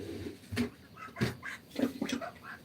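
Several geese honk and cackle nearby in short irregular bursts, a few overlapping calls against a quiet background.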